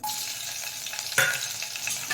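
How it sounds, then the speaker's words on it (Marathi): Sliced green chillies hit hot oil for tempering, giving a steady close sizzle and crackle throughout, with one sharper burst of spitting partway in and no talking. "त्याला फक्त एक दोन तीनच हिरवी मिरची कट करून फोडणीला टाकणार आहे"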